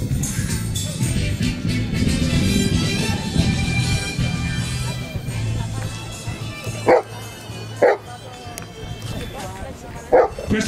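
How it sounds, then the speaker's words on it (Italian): A search and rescue dog at a civil protection demonstration gives a signalling alert bark: several sharp, loud barks spaced a second or so apart, following a stretch of talk and background crowd noise. "è un abbaio di segnalazione"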